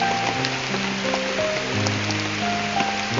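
Heavy rain pouring onto leaves under a banana grove, a dense steady hiss with scattered drop hits and low rumbling, with no voices.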